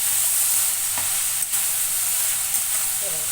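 Cauliflower for aloo gobi is turned over in hot oil, giving a steady, close frying hiss with a couple of soft thuds and scrapes from the spatula.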